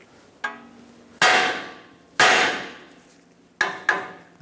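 A hammer strikes the steering knuckle of a Ford E-350 Super Duty five times at uneven intervals, each blow ringing out with a sharp clang that decays before the next.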